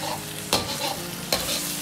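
Egg tofu pieces sizzle steadily in hot oil in a wok while a spatula stir-fries them, with two distinct scraping strokes cutting through the continuous frying.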